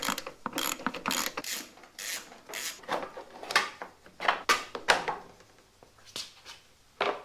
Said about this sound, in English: I'm going to take out this bolt right here with my ratchet because my impact driver won't fit